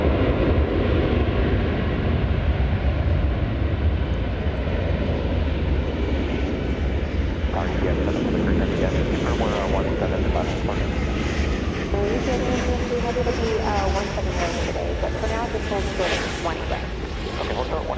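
Airplane at DFW Airport at night, a broad loud engine roar that holds steady throughout and shifts in pitch as it passes, with a voice heard partway through.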